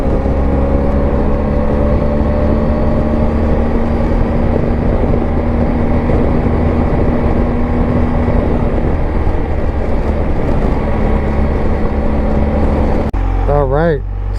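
A BMW R1250 GSA motorcycle engine runs steadily at mid revs in third gear on a back-country road, a loud sustained drone with wind rush, ending with a brief shift in tone.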